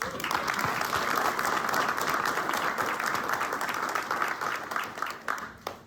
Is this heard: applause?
yes